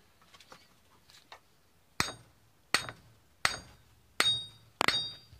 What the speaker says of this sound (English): And beat it in with a hammer.